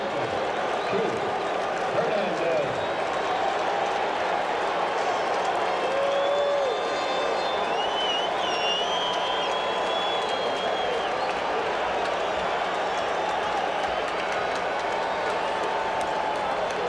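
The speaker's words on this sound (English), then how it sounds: "The crowd is showing life." A baseball stadium crowd at a 1986 World Series game between the Mets and Red Sox roars in a dense, continuous wash of cheering and applause, while a broadcaster's voice talks over it.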